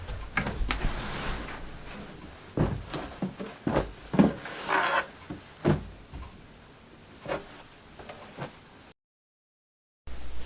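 Drawers of children's clothing being opened and emptied, a series of separate wooden knocks, slides and thumps spread irregularly through the room, close by, with a short silent gap near the end.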